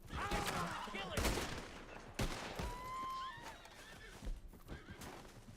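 A horse in the video game Red Dead Redemption 2 whinnies and snorts amid clattering hooves and sharp gunshot-like cracks, fairly busy and close, with brief speech mixed in.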